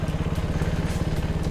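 A rebuilt KTM motorcycle with about 970 km on it rolls up to a showroom in Chandigarh, its single engine puttering in a quick, even pulsing throb at close range, loud and alone.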